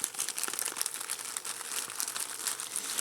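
Plastic component bags from a Bristol Bloodhound eurorack synth kit crinkle continuously and close up in busy, rustling handling, with no speech.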